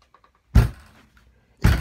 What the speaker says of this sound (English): I think he is banging my door.